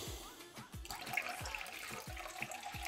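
Water trickles from a 3-tier drink dispenser into a glass, a soft steady flow with faint drips, quiet and close, with no talking.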